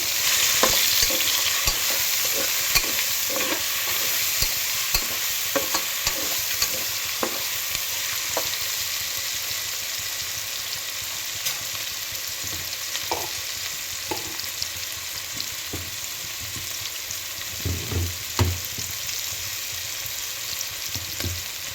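Pulao ingredients stirred with salt in a hot pan, a steady sizzle running throughout with repeated scraping and clinking of the spoon against the pan, alone and close.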